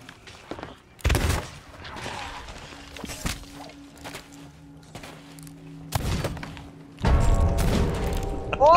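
Blunderbuss gunfire in the pirate video game Sea of Thieves, several loud booming blasts spaced a second or more apart among mechanical clatter, with players talking in between.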